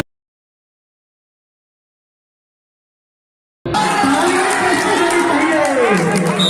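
A crowd cheers and claps at a volleyball match, loud and continuous after a few seconds of silence, with a commentator talking over it.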